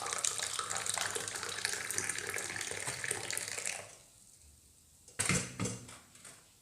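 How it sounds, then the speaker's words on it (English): Tea is poured back into a cup after a brief shake to raise foam: a continuous splashing pour for several seconds, a pause, then a few shorter splashes and trickles. "shake it a little bit, and pour it back again."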